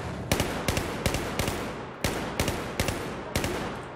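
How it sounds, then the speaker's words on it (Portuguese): Several sharp gunshots crack in quick irregular bursts in the video game Battlefield 1, about a dozen shots over a few seconds, loud and close with no talking. "tá rolando tiro aqui"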